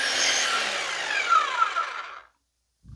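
A harsh, rapid mechanical chattering of a demolition hammer chipping at hard tile, loud and close, running steadily for about two seconds before cutting off abruptly.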